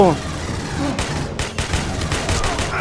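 Rapid automatic gunfire in the Aliens Colonial Marines video game, a steady loud stream of shots with a few sharper cracks, with a voice talking over it.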